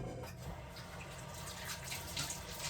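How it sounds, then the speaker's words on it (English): Water runs steadily from a tap into dishwater while hands are rinsed and scrubbed after mixing meatloaf, a soft continuous splashing wash heard close and alone. "I'm gonna rinse my hands off. Scrub them in the dishwater, actually."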